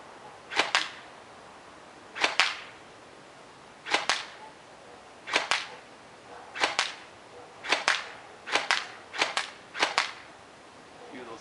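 An AK-47 airsoft rifle fires outdoors in sharp snapping shots, mostly paired cracks spaced about a second apart, then quicker bursts toward the end, loud and close.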